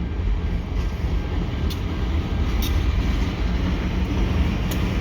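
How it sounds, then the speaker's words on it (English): Switcher locomotives pushing a caboose near a bridge over the Lachine Canal on a Friday morning, heard as a steady, broad outdoor rumble with faint high squeals now and then and no talk. "They're pushing the caboose here at 8:45 a.m."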